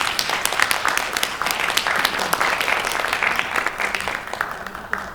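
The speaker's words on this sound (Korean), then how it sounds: "큰 박수 부탁드립니다." Audience at a Korean parliamentary suicide-prevention forum and international seminar gives a round of applause, a steady wash of many hands clapping with sharp individual claps standing out, fading slightly toward the end.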